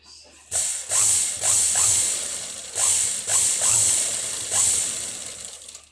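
Sewing machine stitching lining and main cloth together near a thread piping edge, a close mechanical whirring in several short bursts with pauses between runs, each burst a rapid ticking rattle.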